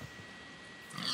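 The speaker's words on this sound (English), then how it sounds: "I found some pigs." Pigs grunting in the Minecraft video game, a few soft low grunts at the start and again at the end, fairly faint over a steady background hiss.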